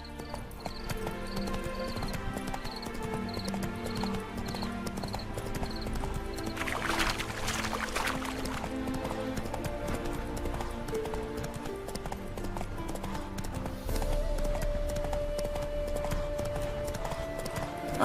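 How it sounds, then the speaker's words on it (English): Roach the horse trots with steady, rhythmic hoofbeats in The Witcher 3, the clip-clop running under layered game music and ambient sound at moderate volume. "Spooking my horse."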